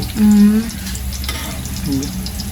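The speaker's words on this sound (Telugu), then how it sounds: "ఉల్లిగడ్డ మంచి ఫ్రై చేస్తున్నా" Onions fry in a pan for a mutton fry, a steady loud sizzle and hiss close by, briefly overlaid by a voice.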